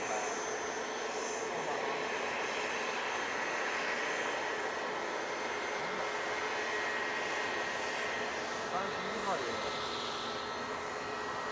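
A VistaJet Bombardier Challenger 350 business jet at Manchester Airport gives off a faint, distant, even engine rush that stays steady throughout, with soft voices faintly present underneath.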